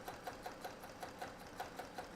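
A sewing machine stitches quilt fabric out to the edge of the work, its needle ticking in a fast, regular rhythm over a steady motor hum, faint and close.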